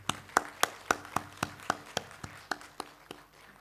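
Sparse, evenly spaced claps from a small audience at an academic seminar on natural resources management, a dozen or so sharp hand strikes in a steady rhythm, moderately quiet with no voices over them.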